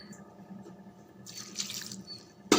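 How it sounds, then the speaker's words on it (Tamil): Two tumblers of water poured into a cooking pot, a steady close splashing and trickling with a brief louder gush near the end, no voices. "2 டம்ளர் தண்ணி மட்டும் விடுங்க."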